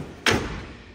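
A drawer on a Snap-on 84-inch Epiq toolbox slides shut in a workshop, giving one close, solid thud with a short ringing tail.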